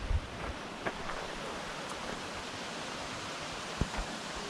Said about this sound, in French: Et voilà, chute de voile de la mariée à Grand Bassin.